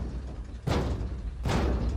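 Two dull thuds strike a door about a second apart, loud and close, with a soft background hum between them.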